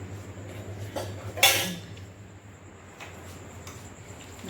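A pot of cooked rice is lifted off the stove, giving a single sharp metallic clank of pot against metal, with a few soft scrapes and knocks before and after under a low steady hum.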